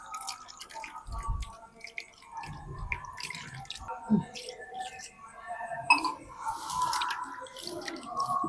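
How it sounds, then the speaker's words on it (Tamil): Washed aloe vera gel is tipped into a kitchen strainer, water dripping and trickling through in irregular splashes and drips, close up, with soft movement sounds between. "ஒரு வடிகட்டியில் கொட்டி வடிகட்டிடணும்"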